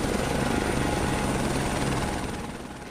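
A helicopter flies over the cyclone-damaged island of Mayotte, its loud, steady rotor and engine drone filling the air before fading slightly toward the end.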